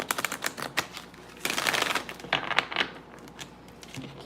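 Tarot cards riffle and flutter in quick clustered bursts, a close, crisp shuffling with short pauses between runs.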